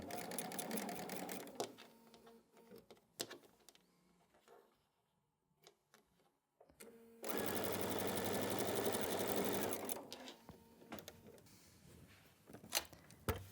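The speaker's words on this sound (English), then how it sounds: "We're going to go sew." A sewing machine stitches fabric for a quilt, running in short bursts and then one long, steady, close whirring run of about three seconds, with quiet handling clicks between bursts.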